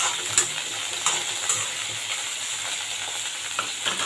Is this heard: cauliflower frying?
yes